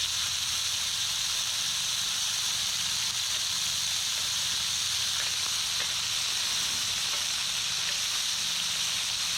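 Burgers sizzle on a grill with flames going, a steady broad hiss and crackle that holds evenly throughout, close and fairly loud with no talk.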